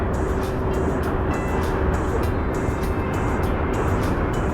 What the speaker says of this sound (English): And of course, the train's coming by.